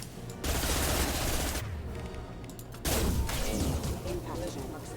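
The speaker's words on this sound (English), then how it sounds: "Firing an impact shot." Impact Shot power fired in Mass Effect 2 Remastered: loud, dense bursts of weapon fire and impacts in two sustained volleys with a brief lull between, and a voice speaks amid the combat.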